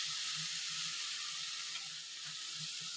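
Carrots sautéing with cashews in a hot pan give a steady, close sizzling hiss that runs unbroken throughout, with faint soft stirring bumps underneath.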